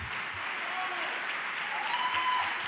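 A lecture audience applauds steadily, a dense wash of clapping that holds at an even level throughout, with faint voices mixed in.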